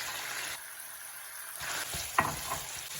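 Shrimp fried rice with mixed vegetables being stirred in a pan: a steady sizzle with scraping spatula strokes that build toward the end, with one sharp clack near the close and no voices.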